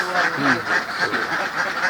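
A crowd of ducks quacks continuously in a dense, overlapping chorus, the calls close and loud with no pause.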